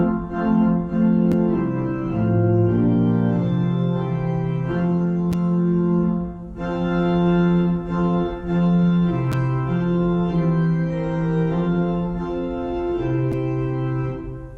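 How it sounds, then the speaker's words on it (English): Church organ playing a hymn exactly as written in the hymnal, every note detached, giving a choppy, separated chordal texture with small gaps between chords, steady and fairly loud throughout. "So if I play everything exactly as it appears written in the hymnal, you'll get a sound like this."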